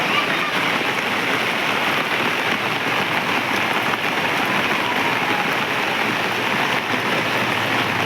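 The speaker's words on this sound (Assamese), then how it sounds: "তাইক মই নিবলৈ অহা টাইমত ইমানেই বৰষুণ দিছে" Heavy rain pours steadily on surfaces during a downpour, a dense continuous roar of drops close by with no pauses.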